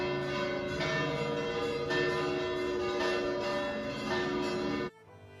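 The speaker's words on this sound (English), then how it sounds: "So the bells told us it was 12 o'clock" Church bells in Noto, Sicily, peal at noon with loud, overlapping ringing strokes in a steady rhythm, resonant tones hanging in the air before the sound cuts off abruptly near the end.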